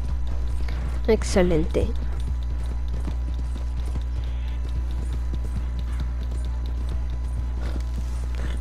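A horse in Red Dead Redemption 2 clip-clops along in a steady, close walking rhythm over rough terrain. A brief whinny comes early, and a person talks over the hoofbeats.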